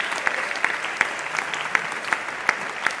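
Applause at a birthday celebration honours the volunteer cooks: moderate clapping from a modest gathering, with a few individual claps standing out sharply in an uneven rhythm.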